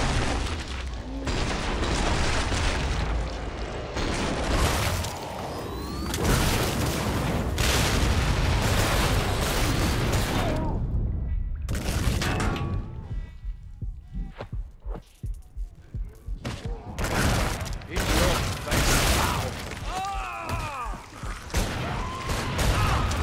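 Gunfire and explosions in the video game Killing Floor 2, with a .50 caliber weapon and cannons: dense, loud bursts of shots and booming blasts that come in waves, with a brief lull midway and more sporadic hits near the end.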